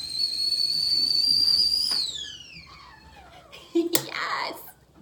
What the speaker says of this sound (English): My teapot is about to whistle, so forgive me, but listen to my whistling teapot,